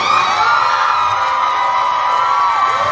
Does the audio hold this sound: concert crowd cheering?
yes